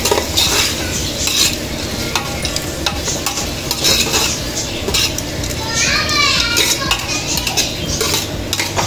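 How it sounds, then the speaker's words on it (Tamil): Onions stirred and sautéed in a pan for quail biryani: a continuous scraping and clattering of a spoon against metal over a steady sizzle, busy and fairly loud, with faint background voices. "இந்த வெங்காயம் இதெல்லாம் கொஞ்சம் நேரம் நல்லா வதங்கட்டும்"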